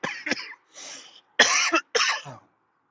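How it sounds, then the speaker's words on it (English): Four harsh coughs in a row, close to the microphone, each a short rough burst with brief pauses between them. "cough came out of nowhere"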